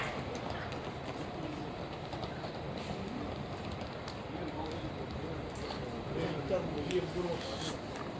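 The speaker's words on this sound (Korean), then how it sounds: "남도해양 관광열차 S 트레인 4873 열차가 타행복 2번으로 들어오겠습니다" A Namdo ocean tourist S-Train rolls into platform 2 at Cheonan station, giving a steady, broad rumble of wheels and carriages that holds throughout and swells slightly near the end.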